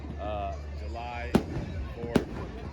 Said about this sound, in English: What you got to say about the fireworks out here at Riverwalk